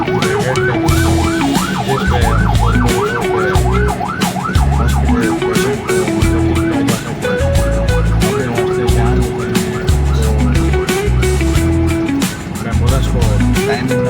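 An ambulance siren wails through busy Karachi city traffic, its rising and falling tone cycling loudly and close over rumbling engines, beeping horns and general street noise for the full stretch.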